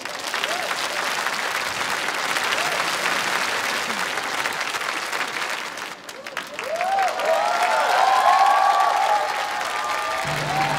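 Sustained applause from a large studio audience at a televised singing competition greets a rock singer, a steady roar of clapping with a brief dip midway before it swells louder and a few whoops and whistles rise above it.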